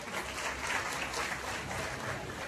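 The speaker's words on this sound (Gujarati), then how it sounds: "સર્વ ભક્ત મંડળને આપણે તાળીના ગણરાટથી વધાવીશું" A devotional gathering in Surat greets a guru and his devotees with steady, sustained applause from a crowd, dense and even clapping filling the room without pause.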